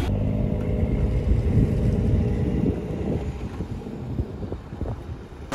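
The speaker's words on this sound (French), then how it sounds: "Il y a notre bateau qui vient d'arriver là." A motorboat engine rumbles nearby with wind buffeting the microphone, the low drone gradually easing as it draws in.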